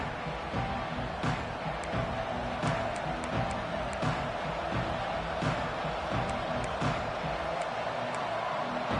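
Steady roar of a football stadium crowd at a Texas vs. Penn State game, a dense, continuous wash of voices with scattered sharp claps and shouts, moderately loud and unbroken.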